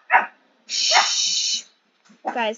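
A pet dog gives several sharp, close barks and a high yip in a home, in short bursts separated by gaps, with a person briefly hushing it.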